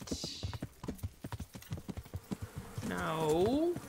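Horse hooves clip-clopping at a steady trot in Kingdom Come: Deliverance, close and rhythmic, with a voice talking over the hoofbeats and a brief horse whinny near the end.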